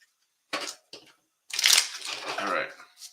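Ani-Mayhem trading cards shuffled by hand, two brief riffling bursts followed by a longer, louder run of card flicking and rustling, close by.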